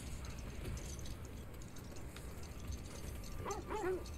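A few short dog barks and yips near the end, over a steady low rumble of background noise in the video game God of War Ragnarok.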